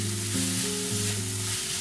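Nasi goreng fried rice seasoned with salt, white pepper, oyster sauce and plenty of sweet soy sauce sizzles steadily in a pan over high heat, a close, continuous crackle with a low steady hum beneath and no talk.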